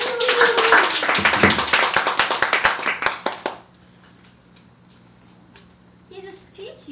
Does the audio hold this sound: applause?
yes